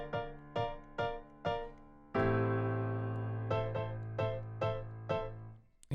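A piano plays a filler riff: a run of short, evenly spaced chords, then one long sustained chord, then more quick repeated chords, clear and close with no voices.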